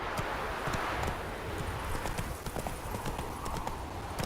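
Roach, a horse in the video game The Witcher 3, gallops with rapid, close clip-clopping hoofbeats in a steady rolling rhythm over a dense background.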